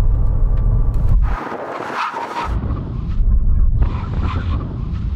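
BMW M8 Gran Coupe, Audi RS6, AMG E63 S and Porsche Panamera making a full emergency stop on a test strip: loud broad roar and wind rush that drops abruptly, then swells again with rumbling tyre and engine noise.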